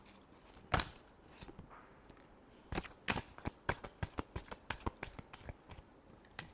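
Tarot cards are shuffled by hand in quiet surroundings, with a series of soft, crisp riffling and tapping bursts in an irregular rhythm, close and fairly faint.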